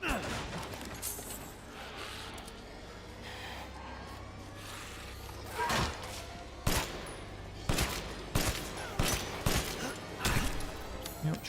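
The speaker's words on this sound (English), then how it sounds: "Yep, shotgun." Shotgun blasts in the video game Resident Evil Village come as a string of sharp, spaced bangs that grow more frequent toward the end, over a low game rumble with someone talking.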